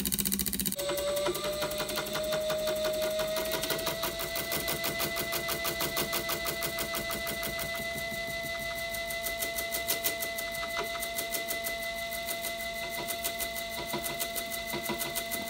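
A large homemade brushless motor runs steadily, giving a fast, even mechanical whir with a constant tone and rapid rhythmic ticking that holds throughout with no speech.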